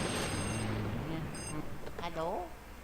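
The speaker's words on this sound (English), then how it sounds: "There's another phone ringing here." A telephone rings in the Luigi's Mansion video game, a bright electronic trill repeating in short bursts over a busy game soundtrack, with a voice talking at the end.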